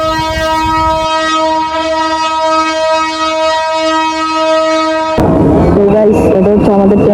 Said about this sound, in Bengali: এটা হচ্ছে আমাদের ট্রেন চলে আসছে ফাইনালি।